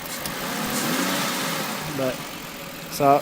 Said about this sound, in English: So right now it's actually idling higher than normal.